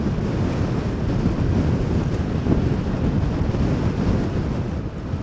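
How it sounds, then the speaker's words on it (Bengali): Steady, loud wind roaring across the microphone without a break, with a broad rushing wash that may include water or waves beneath it, on a ride in Odisha, India. "প্রচুর হাওয়াও চলছে, মানে এতটাই হাওয়া চলছে যে মানে একদিক থেকে আর একদিকে ঠেলে দিচ্ছে হাওয়ায়"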